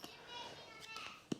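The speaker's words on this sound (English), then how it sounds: "Kids screaming at the puppy." Children shrieking and calling out at a puppy indoors, several high excited voices rising and falling over about a second and a half, with a sharp louder yelp near the end.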